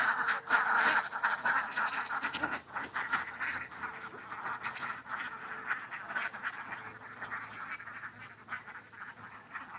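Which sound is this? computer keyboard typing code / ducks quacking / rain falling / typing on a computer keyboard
ducks quacking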